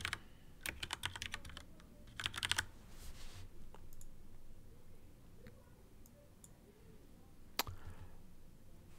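Keyboard typing on a computer while a new desktop folder is named, heard as quiet clustered key clicks in short bursts near the start and again briefly later, over a faint background hum.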